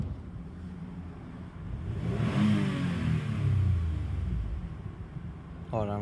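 A Toyota 2GR-FE V6 in its engine bay builds through one loud rev that swells and then falls back, with a steady engine rumble before and after and a brief sharper noise at the very end.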